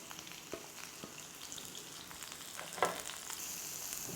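Garlic, onions and curry leaves sizzle and crackle steadily as they stir-fry in a hot pan, with occasional soft pops and stirring scrapes, no voices.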